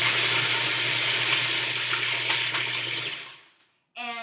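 Cheesecake crust base being crushed in a blender or processor, a loud steady grinding whir that runs for about three seconds before fading to silence, then a short restart at the end.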